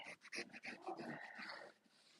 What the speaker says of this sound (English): My dog's barking, if you can hear that.